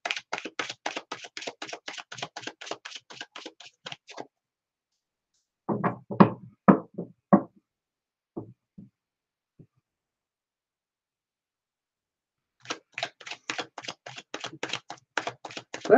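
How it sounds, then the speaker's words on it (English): Tarot cards being shuffled: bursts of rapid riffling clicks and taps, a dense run at the start, a few sparse slaps in the middle, then another rapid riffle at the end, close and fairly clear with no talking. "I'm going to start shuffling."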